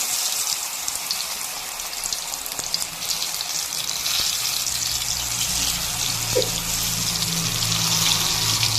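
Gram-flour-battered pieces for a vegetarian mock-fish dish fry in very hot oil, giving a steady, dense, close sizzle and crackle that runs unbroken throughout with no voices.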